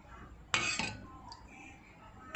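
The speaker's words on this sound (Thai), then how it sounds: "เดี๋ยวเราก็จะนำสาคูนะคะใส่ลงไปในชามก่อน" A spoon clinks against a serving bowl as cooked sago is dished in for a cantaloupe and milk dessert, two sharp close taps separated by quieter scraping, with no talking.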